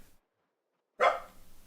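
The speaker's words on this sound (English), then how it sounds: "barked the second I told you it was okay" A single sharp dog bark after a moment of silence, fairly close and clear, with a short tail of room sound.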